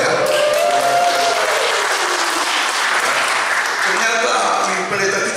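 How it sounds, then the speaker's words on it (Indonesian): Loud, sustained audience applause fills a wedding blessing ceremony honoring Pastor Agnita, steady dense clapping throughout with a faint voice or tone drifting over it early on. "beri tepuk tangan ya."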